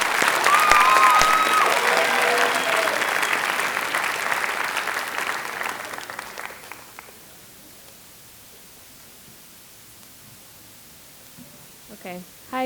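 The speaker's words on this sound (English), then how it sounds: "one more big round of applause for all of our writers" An audience applauds the writers at a school writers' week event, a loud burst of clapping that fades out after several seconds into quiet, with a brief rustle near the end.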